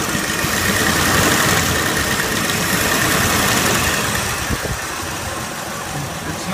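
A 1995 Ford F250 engine idles roughly with a misfire, a loud, steady rumble with uneven knocking close by, not yet warmed up.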